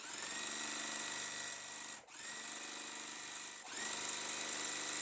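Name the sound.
sewing machine sewing fabric strips together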